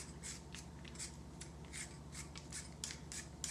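A carrot is grated or peeled in quick, rhythmic scraping strokes, about a dozen faint rasps in close succession.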